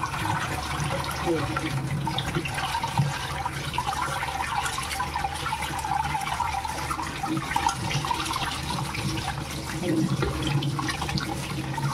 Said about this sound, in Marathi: हे आपण स्वच्छ धुवून घ्यायचे, जसं वास नाही मारला पाहिजे.